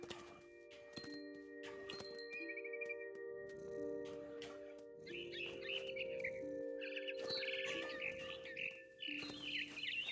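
Bird in What Remains of Edith Finch, chirping and trilling in repeated short bursts over a steady tonal game ambience, fairly clear and close.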